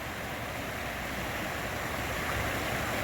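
River rapids near a cliff rush in a steady, loud, broadband roar of churning water that continues unbroken throughout.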